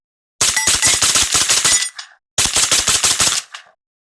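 An H&R 635 rifle fires suppressed in two rapid strings of closely spaced shots, each lasting about one and a half seconds and separated by a short pause. The shots are loud and sharp, and no one speaks.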